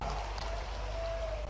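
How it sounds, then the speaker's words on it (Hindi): Steady rain pours down over an outdoor public gathering, a dense, even patter filling the whole stretch with no break, heard alone without voices. "देवता भी इंद्र स्वर्ग से हम सब के लिए आनंद के लिए, स्वागत के लिए वर्षा के माध्यम से अभिनंदन कर रहे हैं।"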